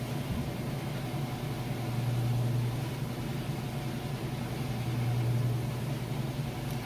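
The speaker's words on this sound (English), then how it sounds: "we're back for that final spin cycle. It's up to about full speed." A Kenmore washer on its final spin cycle at full speed gives off a steady, even whirring drone with a low hum, close by and unbroken, with no voices.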